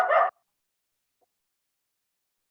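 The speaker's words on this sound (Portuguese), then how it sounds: "A cachorrinha aqui não vai deixar, tá latindo demais." Small female dog gives a single short yap right at the start, fairly close, then silence follows.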